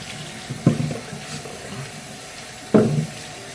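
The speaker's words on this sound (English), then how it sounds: "so now we're just going to rinse these off" Water from a sink faucet rinses vegetables for a Guyanese metemgee stew, with two brief louder gushes standing out over a faint steady background.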